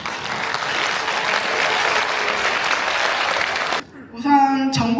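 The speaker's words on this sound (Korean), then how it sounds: "큰 환호와 감사의 박수 부탁드리겠습니다" Hall audience at a property appraisal briefing giving loud sustained applause and cheers for standing committee chairs, a thick wash of clapping that cuts off abruptly, followed by a brief tonal chime and a voice.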